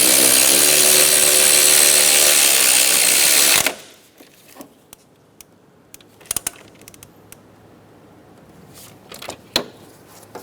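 A power tool whirs loudly and continuously for a few seconds as an 18mm socket drives down valve cover bolts on a 2007-2012 Nissan Altima, then cuts off, leaving quiet scattered clicks and taps.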